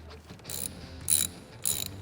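Ratcheting wrench loosening an 8 mm nut on a Ford F-150 battery terminal clamp, three short bursts of clicking ratchet strokes close by, with quiet pauses between and no talk.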